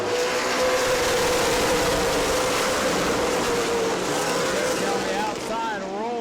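Stock race cars roar around the New Smyrna track under a green flag, a dense, loud wall of engine noise with cars sweeping past; a commentator's voice runs over the racing.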